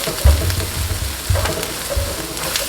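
Egg frying in a pan while it is stirred together with coconut shrimp fried rice: a continuous soft sizzle with dull thumps from the spatula moving through the rice, close and without speech.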